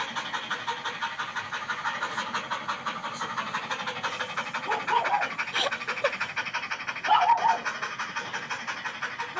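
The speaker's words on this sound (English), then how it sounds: "It's a dog." A dog pants steadily and rhythmically close by for several seconds, with a slightly louder burst of breathing near the end and faint background rumble.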